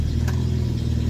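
A Renault 10 with its throttle pumped and the choke half out runs with a low, steady rumble and a brief sharper burst near the start, close and fairly loud.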